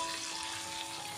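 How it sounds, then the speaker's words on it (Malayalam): Chicken deep-frying in coconut oil gives a steady, fairly quiet broadband sizzle that holds evenly for the whole moment, with no voices. "ഒന്നും കൂടെ എണ്ണയിൽ കുഴിച്ച് വറുത്ത്"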